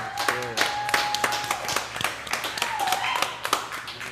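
A small group claps together at the close of a late-night live talk show, scattered sharp claps with taps and voices talking over them.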